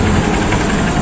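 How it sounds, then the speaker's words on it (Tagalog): A Honda CRF 150 motorcycle engine runs steadily up close, a dense, continuous rough drone with no talk over it. "So ito yung hatak sa motor natin"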